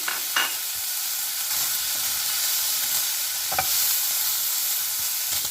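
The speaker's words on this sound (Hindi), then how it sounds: "अब इसको हम अच्छे तरीके से मिक्स कर लेंगे।" Chicken filling for muffins is mixed with lemon juice and black pepper in a bowl, a soft continuous sizzling hiss broken by a few sharp scrapes and taps of a utensil, close and fairly steady.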